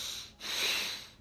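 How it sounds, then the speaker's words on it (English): A single breath drawn in sharply through one nostril during alternate nostril breathing, airy and close, rising and fading within a second. "breathing in through one nostril, out through one, switch"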